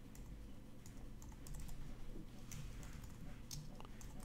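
Soft rapid keystrokes on a computer keyboard entering text while working in Photoshop, a continuous light tapping under steady room noise and faint speech.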